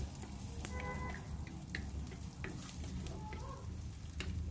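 Green chillies and small shallots frying in a pan, a dense steady sizzle with scattered light scrapes of stirring, close and even throughout.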